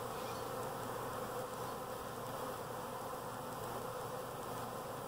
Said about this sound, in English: have emerged from their cells, flown up into the air and done a 180, and are now flying in arcs facing the hive, orienting themselves to home